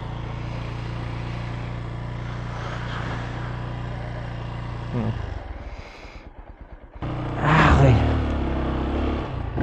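Kawasaki Rouser 135LS motorcycle, fourteen years old, idling steadily after a cold start, then the engine note drops and stumbles briefly before rising again in a louder rev, heard close with a brief spoken word.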